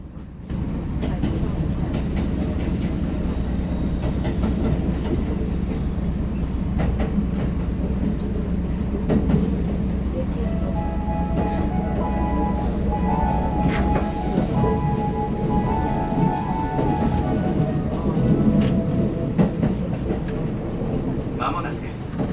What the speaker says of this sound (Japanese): さあ出発、次宇治山戸の駅です。